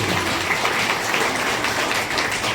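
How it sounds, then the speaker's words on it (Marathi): At a get-together, an assembled group applauds the organiser in a loud, dense burst of clapping that stays full and steady throughout. "तिच्यासाठी खरोखर एकदा जोरदार टाळ्या वाजवतो."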